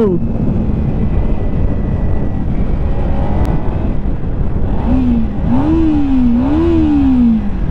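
A loud 2023 Kawasaki Ninja 300 motorcycle engine drones steadily, then rises and falls in pitch as it revs up several times near the end.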